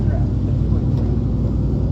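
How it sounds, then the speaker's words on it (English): Road noise from a car cruising down a highway: a constant low rumble of tires and engine, steady and close from inside, with no clear speech. "This is just my car cruising down the highway a little bit. Some of the road noise"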